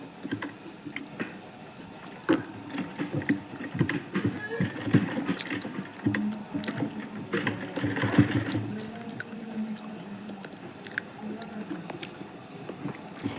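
Sewing machine stitching lace and piping onto fabric, a steady mechanical run of needle clatter with bursts and pauses, moderately quiet and close throughout.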